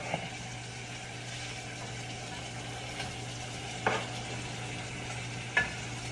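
Onions and mop sauce ingredients cooking down in a pot, a soft, steady sizzle and simmer with occasional faint clinks of stirring.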